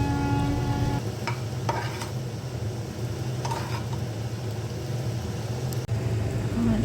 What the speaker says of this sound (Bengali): এখানে আমি সোয়া সসটা অ্যাড করে দিয়ে চাউমিনের সঙ্গে সবজিগুলো আর ভেজে রাখা ডিমটা আমি মিক্স করে নিচ্ছি।